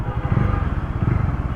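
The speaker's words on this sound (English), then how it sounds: "the exhaust note sounds so awesome" Exhaust of a 2022 Bajaj Dominar 400 motorcycle under way in traffic: a loud, close, low thumping drone with a steady pulsing rhythm throughout.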